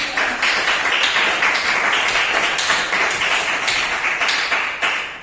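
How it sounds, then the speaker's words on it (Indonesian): A class of students clapping together on cue from their teacher in a classroom, a steady dense patter of many hands that holds at an even level for the whole stretch without talk. "Tepuk tangan lagi. Sekali lagi."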